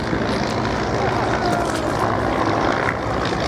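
A BE-2 biplane's propeller engine drones steadily at an airshow, a continuous broad rumble that holds level throughout with an announcer talking over it.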